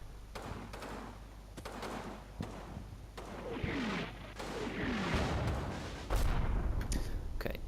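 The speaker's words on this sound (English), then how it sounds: "Okay, enough of the mortars." Mortar fire from the video game Combat Mission: Battle for Normandy lands in a string of muffled booms and thuds, some distant and some closer, spaced irregularly over a low rumble.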